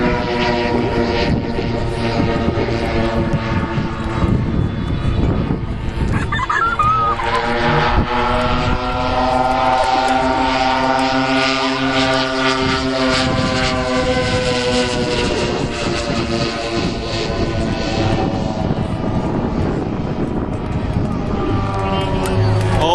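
A radio-controlled model B-29 four-engine bomber hovers at an airshow, its engines droning loud and steady throughout with layered harmonic tones, while people talk underneath.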